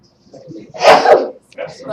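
A sudden, forceful sneeze bursts out close by, preceded by low murmuring and followed by a short voice.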